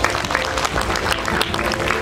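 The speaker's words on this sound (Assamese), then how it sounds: "সঁচাকৈ এওঁলোকক সকলোৱে জোৰদাৰ হাত চাপৰি এটা দিয়ক।" A dense burst of audience clapping fills a beauty pageant hall in Guwahati, loud and continuous throughout with no voices on top.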